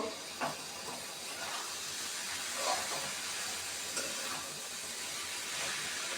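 Pre-boiled chicken pieces are stirred into fried spice paste, giving a faint, steady sizzle and hiss with soft stirring scrapes throughout and no talk.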